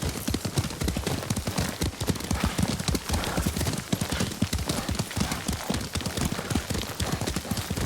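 Rapid, steady clip-clop of galloping horse hooves in the video game Ghost of Tsushima, continuous and fairly close, with a dense rhythmic pounding and no talking.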